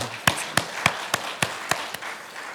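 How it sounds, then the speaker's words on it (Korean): A church congregation claps in steady unison during a Sunday worship service, with about seven sharp, evenly spaced claps ringing through the room before fading out. "하나님께 큰 영광의 박수 올려드리도록 하겠습니다"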